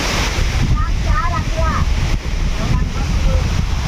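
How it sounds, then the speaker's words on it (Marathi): A waterfall roars as a loud, steady broadband rush, with wind buffeting the microphone and faint voices calling over the water. "हा जो धबधबा आहे तो खाली जातोय"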